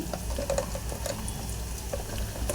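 Onions with salt are stirred in a pan, soft repeated scraping and clinks of a spoon against the metal over a low continuous sizzle, close and without talk.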